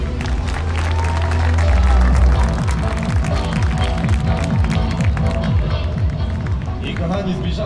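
A crowd at the Energylandia amusement park extreme stunt show claps and cheers for a vehicle team. Heavy rumbling engine noise runs underneath, with an announcer speaking over the sustained applause.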